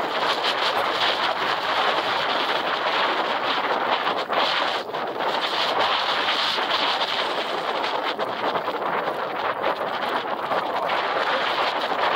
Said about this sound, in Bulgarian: Малко вятър.